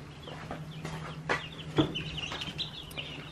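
Meat chickens clucking softly at close range, scattered calls over a low steady hum, no one speaking.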